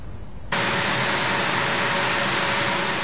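Steady, loud jet engine roar of a large military aircraft at an air base, starting abruptly after half a second of quiet and holding constant with a faint high whine on top.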